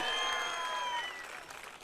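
Crowd applause at a political rally in packed temple galleries and terraces, dense clapping that starts loud and slowly thins and fades over a couple of seconds.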